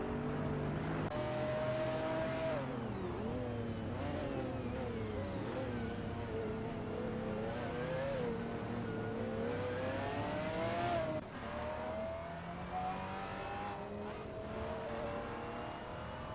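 AI-driven supercars race around the Zolder circuit in a racing video game, engines droning and revving continuously as gears shift, with layered cars close together and loud throughout.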